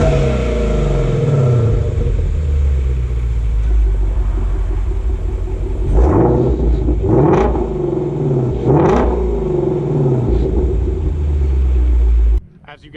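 A 2020 Shelby GT350 is revved through its exhaust in both quiet and sport modes, with a low rumbling idle broken by three sharp, loud rev blips near the end before it cuts off.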